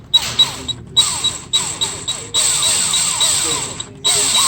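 A drill grinding into a stuck EGR bolt on a 6.7 engine with a new bit, loud whining bursts that stop and restart several times, each run rising and falling in pitch.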